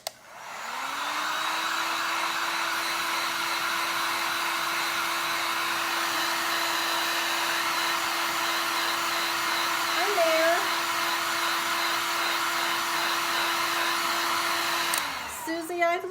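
A heat gun blows hot air over fresh paint on a milk bottle, a loud steady whirring drone that spins up, holds constant for about fifteen seconds, then shuts off with a clunk.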